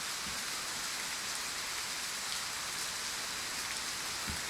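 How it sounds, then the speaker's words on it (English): Steady, dense rain hisses continuously in a hunting video game, an even wash of falling drops with no pauses and no voices. "The rain's really loud"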